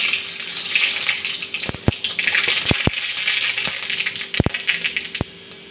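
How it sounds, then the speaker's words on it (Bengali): Mustard seeds crackle in hot oil for a Bengali pineapple chutney tempering: a steady frying hiss carries sharp, scattered pops that come irregularly, close and fairly loud, with no talking. "এখন সরষেটা ফোড়নে দিয়ে দিচ্ছি।"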